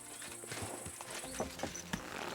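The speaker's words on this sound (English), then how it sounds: "Horse." Horse hooves clip-clop steadily in Kingdom Come: Deliverance II, a few sharper knocks standing out over a dense, busy background.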